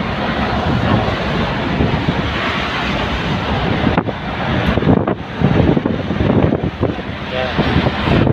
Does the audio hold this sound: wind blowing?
yes